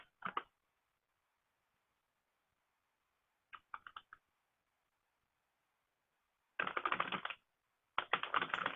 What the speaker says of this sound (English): And I'm just typing the elements in the chat